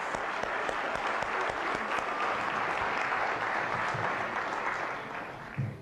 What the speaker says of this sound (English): Let's give the brothers and sisters with God Collective a big round of applause.